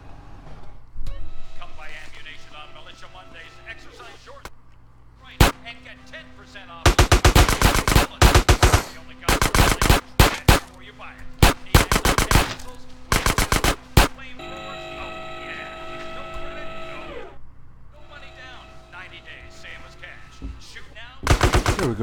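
Grand Theft Auto San Andreas gunfire at a gun shop: loud bursts of rapid automatic shots and single cracks break out in clusters with gaps between them, over a quieter game background.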